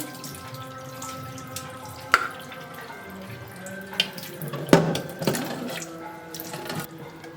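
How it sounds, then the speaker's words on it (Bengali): Grated bottle gourd and its white liquid poured through a kitchen strainer, giving a close, steady trickle of running water with a few louder splashes and drips near the end. "দেখুন একটা সাদা জলটা বেরিয়ে গেছে এবার আমি এটাকে ছাঁকনির মধ্যে ঢেলে দিচ্ছি"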